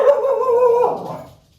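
A dog howls close by, one loud drawn-out wavering cry that slides down and fades away, with no talk over it.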